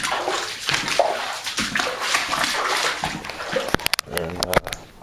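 Water gushing and splashing steadily into a flooded basement during Hurricane Sandy, with a dog whimpering and a voice speaking over it, followed by sharp knocks near the end.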